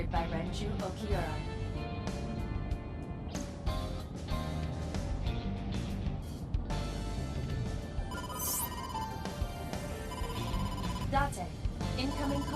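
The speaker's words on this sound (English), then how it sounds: "incoming call from the boss" A phone rings for an incoming call in the video game Ai: The Somnium Files, a repeating electronic ring that sits among game music and sound effects.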